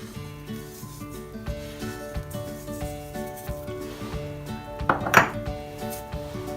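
A metal lid settles onto a cooking pot of simmering tomato stew with water and salt, giving a sharp clink and rattle near the end, after soft rubbing and scraping kitchen sounds.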